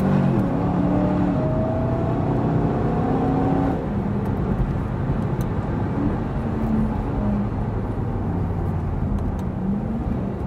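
A Cadillac driven on a track lap with traction control fully off, a steady loud engine drone and road roar from inside the car, engine pitch rising and then dropping as it shifts.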